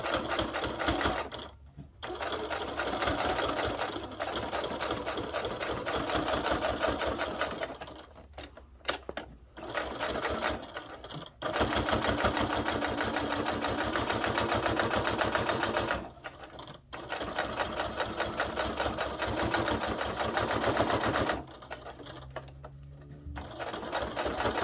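Sewing machine stitching a fabric billfold wallet on a 3.0 stitch length, a steady rapid mechanical whir in long bursts with short pauses between runs, close and loud with no talking.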